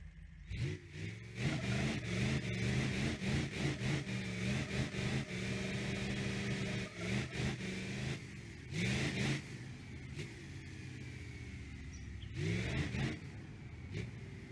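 A 6.0L diesel engine swapped into a 200bx car in BeamNG.drive revs hard and loud, with rising and falling pitch and repeated throttle blips that surge and drop away, running steadily with no talk over it.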